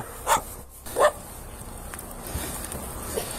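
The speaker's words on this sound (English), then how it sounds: "A white dog, a labradoodle. It's barking frantically near the scene." Two sharp, loud barks from a white labradoodle close by, about a second apart, followed by quieter background noise and a faint yip near the end.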